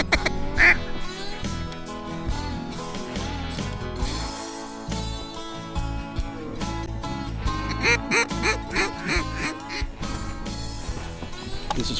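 Ducks quack repeatedly in a marsh hunting setting, layered over a dense, loud background of music and other sounds throughout.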